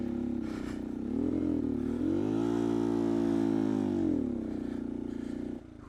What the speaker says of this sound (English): I'm slipping the clutch. Losing rev. I was still slipping it